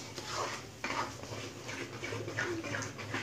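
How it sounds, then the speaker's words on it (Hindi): Semolina halwa being stirred with food colour in a pan, a metal spoon scraping and clinking against the pan in a steady, close, fairly quiet rhythm with no talking. "मिक्स करेंगे इसको फूड कलर को"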